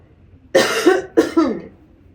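Two sharp, close coughs in quick succession, each with a rough, throaty tail, then quiet.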